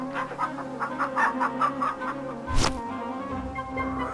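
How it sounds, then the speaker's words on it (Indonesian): Roosters in a cockfight cluck and squawk over a steady droning background, broken midway by a sudden loud, sharp flurry before the clucking resumes. "Ayam milik Siliwarni melompat saat bertarung."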